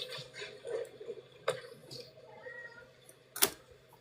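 A house cat asking for treats gives a few short meows over a quiet room, with a sharp louder sound near the end.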